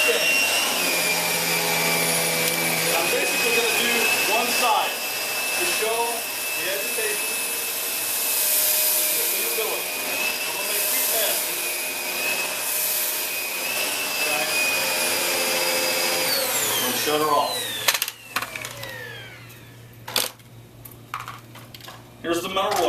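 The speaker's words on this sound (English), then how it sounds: "So I'm going to turn on the Dyson, and we're going to make sure that the brush is spinning" A Dyson vacuum cleaner runs with its brush spinning, a steady high-pitched motor whine throughout, with clatter and knocks near the end as the cleaner is moved.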